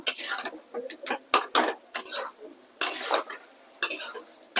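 Egg and potato are stir-fried in a pan over a gas flame after a splash of water, with bursts of crackling sizzle and scraping from repeated stirring in short, irregular strokes.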